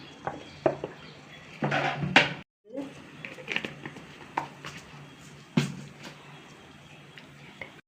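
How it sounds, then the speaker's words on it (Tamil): Sharp scattered pops and crackles of mustard seeds spluttering in hot oil for tempering coriander rice, with clinks of a metal utensil against a pan and a brief silent gap. "கடுகு பொரிஞ்சிருச்சு"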